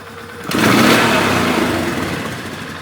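A Polaris Sportsman 500 ATV with a modified air intake jumps from idle to full throttle, its engine suddenly roaring loud and close, then holding a strained, slowly fading rev.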